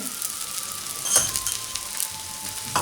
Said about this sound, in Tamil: இப்போ இந்த அடையை தோசைக்கல்லில் போட்டுடலாம். கொஞ்சமாக எண்ணெய் விட்டுட்டு